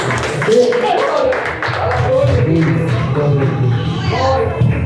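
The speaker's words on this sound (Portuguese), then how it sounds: "E uma salva de palmas para o Senhor Jesus." Church congregation clapping together during a worship service, a dense, fairly loud patter of hands mixed with voices and some talking.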